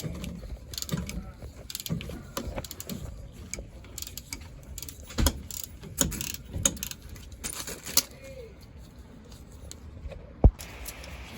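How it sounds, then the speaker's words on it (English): A 17 millimeter wrench works a bolt loose on the rear shock of a 2020 Toyota Tacoma, with close metallic clicks, scrapes and clanks in uneven bursts and one sharp knock near the end. "I have a wrench holding the nut tight on this side. Then I loosen the bolt this way."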